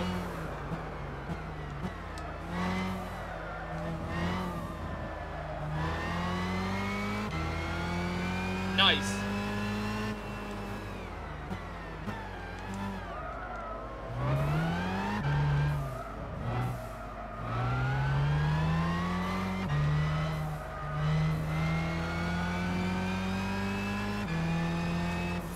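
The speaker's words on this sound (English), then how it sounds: "the car behind is trying so hard to get past right now" Race car engines from Gran Turismo 6 during a GT World Championship race at Silverstone, with steady revving and rising gear-change sweeps as one car chases close behind. Someone talks over the continuous engine drone.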